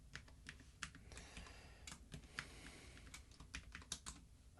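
Rapid, irregular keystrokes on a computer keyboard while entering a key in Git Bash on Windows, close and fairly quiet with scattered clicks and no voices.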